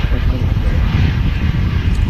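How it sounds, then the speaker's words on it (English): Kuwait Airways Airbus A320neo on final approach to Manchester Airport, a continuous low engine rumble and roar at steady loudness, with voices talking over it. "Kuwait A320 Neo on finals"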